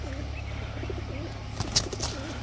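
Pigeons on a farm, young birds among them, give soft low coos with a few wing flaps and a louder flurry near the end, all over a steady low background hum.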